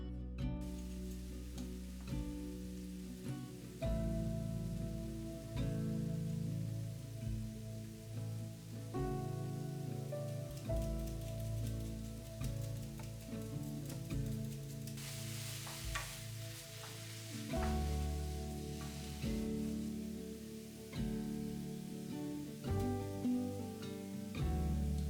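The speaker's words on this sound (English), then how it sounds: "add the nettles to a pan along with some olive oil and minced garlic, and cook everything for a further 4 to 5 minutes" Stinging nettles cooking with olive oil and minced garlic in a frying pan, a soft, steady sizzle with occasional stirring scrapes, fairly quiet and continuous.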